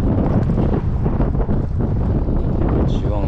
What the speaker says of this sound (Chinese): 然后现在风很大